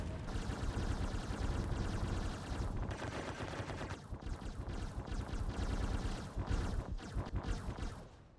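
Energy weapons on a Taurus ship loadout in Star Citizen fire at an enemy hammerhead ship in dense, continuous rapid bursts, loud and close, with a brief dip in the middle before the barrage resumes.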